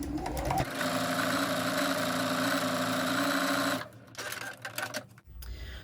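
A sewing machine stitches a fabric postcard in one steady, close run of nearly four seconds. Then it stops, and quieter handling and shuffling sounds follow, with no speech.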